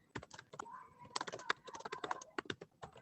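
Fast, uneven keystrokes on a computer keyboard, close and fairly loud, with a faint tonal chirp in the background between taps.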